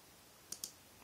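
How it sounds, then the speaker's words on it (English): Two crisp, quiet clicks of a computer mouse button in quick succession, close by over faint room hiss. "right click"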